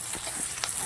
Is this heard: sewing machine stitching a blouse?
no